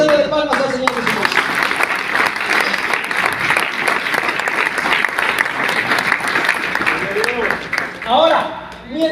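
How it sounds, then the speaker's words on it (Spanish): A church congregation claps loudly and continuously as an offering of praise to Jesus during a Spanish-language sermon, sustained dense clapping with a voice speaking over the start and end. "ofrenda de palmas al Señor Jesús"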